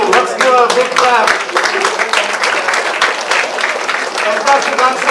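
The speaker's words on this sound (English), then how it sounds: "Let's give a big clap" A college audience breaks into loud, sustained applause with dense clapping throughout, steady and close, with voices mixed in beneath the clapping.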